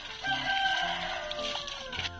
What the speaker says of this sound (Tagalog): Meron nga pala kaming manok.